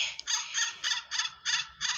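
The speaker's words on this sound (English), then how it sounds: "This crow is barking." A crow gives a run of harsh, rasping caws, about six in a row with short gaps, fairly close and loud with no talking.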